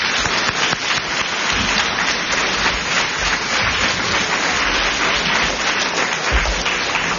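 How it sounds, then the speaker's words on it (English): A school audience applauds to welcome author and illustrator Eric Velasquez, a steady wash of clapping that stays dense and even throughout, with a low rumble underneath. "please give a warm round of applause to Mr. Eric Velasquez"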